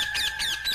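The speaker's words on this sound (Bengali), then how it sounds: "তপন, পাখিগুলো এত ডাকছে কেন রে?" Jungle birds give repeated sharp squawking calls, a quick run of three or four chirps at moderate volume.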